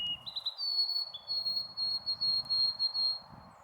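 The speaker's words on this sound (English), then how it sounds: "I heard a lovely white-throated sparrow singing." A white-throated sparrow sings clear, pure whistled notes, stepping up in pitch and then holding a long sustained tone, moderately near against a low background murmur.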